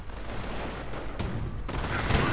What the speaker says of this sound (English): Calliope barrage run on these German Panzers